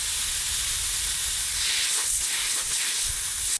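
Steady loud hiss of compressed air escaping from a burst airline on a 3 horsepower compressor during sandblasting, a continuous spray of noise that cuts off abruptly at the end.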